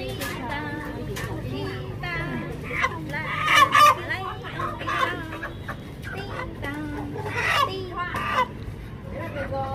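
Chickens cluck and a rooster crows amid a busy market near Sapa, with a steady background murmur of people talking and occasional louder calls standing out.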